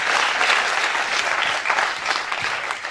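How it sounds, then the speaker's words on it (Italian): Audience applause at a sports awards ceremony in Rivarolo Canavese, a dense, steady wash of many hands clapping close by for about three seconds with no voices over it. "Un applauso."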